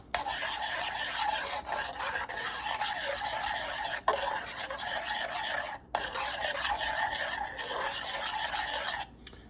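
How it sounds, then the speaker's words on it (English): Garlic sauce is stirred in a pan, giving a steady close scraping and rasping with a few brief pauses and no talk. "We're gonna keep stirring, and everything is coming together"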